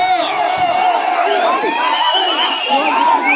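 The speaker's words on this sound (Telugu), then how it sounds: "కేకలు, విజిల్స్." A large crowd at a rural contest cheers and shouts loudly, with a dense, continuous roar of voices and high whoops.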